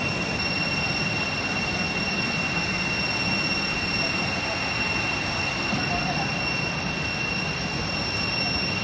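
A private jet arriving at Bodrum airport, a loud, steady, unbroken engine roar with a thin high whine running through it from start to finish.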